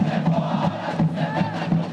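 Santos football fans at a training session at Vila Belmiro, a crowd cheering and chanting in a continuous rhythmic roar that swells and dips over two seconds.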